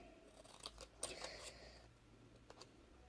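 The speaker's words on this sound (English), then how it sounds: "So I'm just going to cut the word spells out of this." Scissors snip through paper to cut a stamped word, giving a few quiet, close crisp clicks and rustles in short bursts against a faint background.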